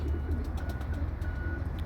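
Pigeons coo softly and continuously in a loft, with faint fluttering and shuffling close by.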